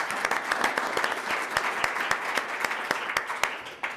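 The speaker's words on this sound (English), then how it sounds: "I'll give you a round of applause for that." Audience applause at a New Hampshire policing and criminal justice talk, honouring a problem-solving court: dense, steady clapping from many hands with sharp individual claps standing out, sustained for about four seconds.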